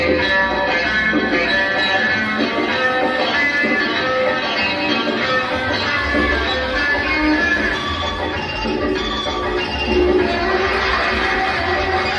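Audience at a primary-school magic show at St. Francis De Sales in Mamachi Wadi, filling the hall with steady, dense clapping and crowd noise that stays loud and unbroken throughout.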